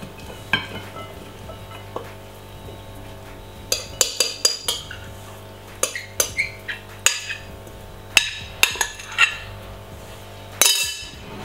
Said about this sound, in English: We're going to scrape out this into another bowl.